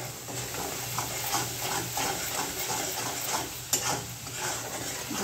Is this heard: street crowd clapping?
no